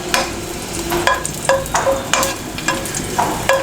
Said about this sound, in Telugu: ఈ వెల్లుల్లిపాయలు కొంచెం దోరగా వేగాలి.